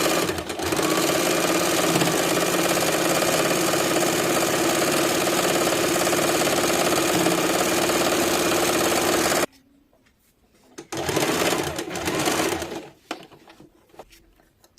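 A sewing machine stitches a petticoat in a long, steady whirring run, then stops to near silence before a shorter second burst of stitching that starts and fades again.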